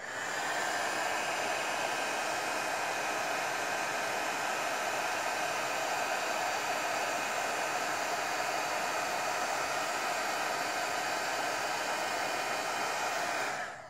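Heat embossing tool blowing hot air to melt embossing powder on vellum for a stained glass rose card, a close, steady hairdryer-like whoosh running unbroken for about thirteen seconds before switching off.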